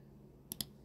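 Two quick, sharp mouse clicks land close together, crisp and near against quiet room hiss while working in Photoshop.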